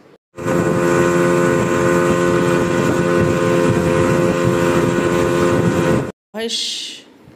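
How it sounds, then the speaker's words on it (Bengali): A speedboat on the way to Moheshkhali island drones with a loud, steady engine roar and wind buffeting, cutting out briefly before resuming. "আমরা স্পিড বোটে করে মহেশখালী গেলাম"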